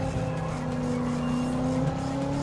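A 1989 Corvette ZR-1 V8 in a racing video game drones steadily at sustained revs, a loud, even engine tone with a faint tire-squeal edge and no break over a few seconds.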